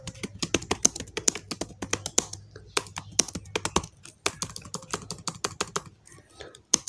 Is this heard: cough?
no